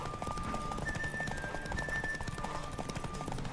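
A horse gallops in the video game The Witcher 3: Wild Hunt, its hooves making a rapid, rhythmic clip-clop that runs steadily throughout. A thin sustained tone sounds faintly alongside the hooves.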